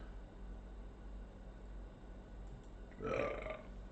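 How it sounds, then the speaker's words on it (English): One short, low burp from a person who is gaming online, rising near the end of a quiet stretch with steady background hiss and no speech. "Sorry about that, people. Don't mean to burp. It's not on purpose."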